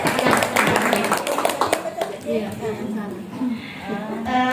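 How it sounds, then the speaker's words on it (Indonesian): A group at an indoor presentation claps together in a brisk burst of hand clapping at the start, which soon thins out as people talk over it. "Mari kita tepuk tangan bersama."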